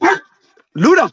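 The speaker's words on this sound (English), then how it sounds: "That's my dog." A dog named Luna barks twice up close, two sharp, loud barks separated by a short silence, with a voice calling her name.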